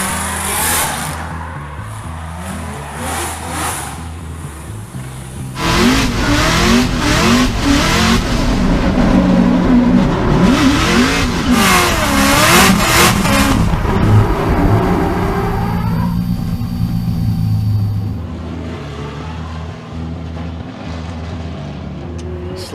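A Nissan S14.5 drift car on throttle during a competition run, its engine rising and falling in loud, raspy revving sweeps mid-clip, with quieter engine noise and a voice speaking before and after.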